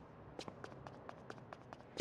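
Footsteps in the Agent 64 video game tap out a quick, even rhythm of light, soft clicks, about eight in a row. They are faint and close, followed by a sharper knock at the end.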